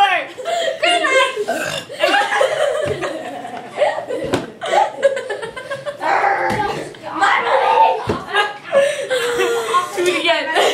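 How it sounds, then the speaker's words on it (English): Children compete at burping, letting out several loud, drawn-out belches one after another, mixed with giggles, chuckles and excited chatter close by. "We're like burping up puke"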